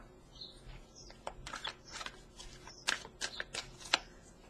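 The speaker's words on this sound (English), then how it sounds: "I'm going to shuffle them a little bit." A deck of Soul Singing oracle cards is shuffled by hand in quick, papery riffles and soft flicks that come close and fairly quiet over a few seconds, with no talk.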